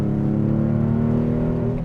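A Porsche 996 911 engine revs while driving, a loud, close, sustained growl with a steady rich tone and no talk over it.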